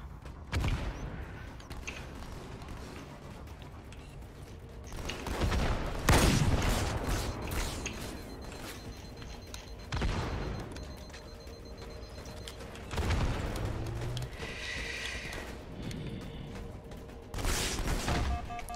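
Battle rifle gunfire in a Halo multiplayer match, heard as repeated loud bursts of shots spaced every few seconds over a constant busy game din, with no voices in the moment.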